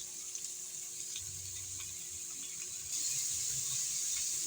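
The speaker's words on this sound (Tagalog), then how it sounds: "At lalagyan natin ng tubig siyempre." Running water pours steadily into a cooking pot holding papaya for chicken tinola, growing louder and brighter partway through, with faint background clatter.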